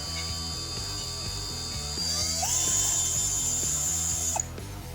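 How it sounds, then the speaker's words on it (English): A power drill whirs in short, rhythmic bursts while boring a hole in the roof of a Traxxas TRX4M Bronco, with a ratcheting clutch clicking close by and no talking. "I'm quickly going to drill that hole and throw the screws in."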